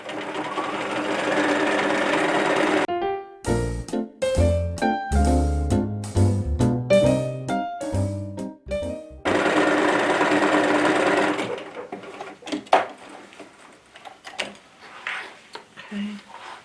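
A sewing machine with a ballpoint needle stitches a dark denim tote in loud, close bursts of rapid mechanical whirring, broken by short pauses and followed by quieter handling noises.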